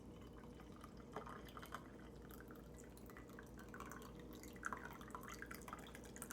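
Coffee pours from a coffee pot in a soft, steady liquid trickle with faint drips, heard close over a constant background hiss, with no talking.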